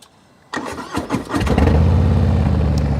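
A 2023 Harley-Davidson Breakout with slip-on exhausts fires up after a second of quiet, cranks with a few uneven bursts, then settles into a loud, deep, steady throbbing idle close to the microphone.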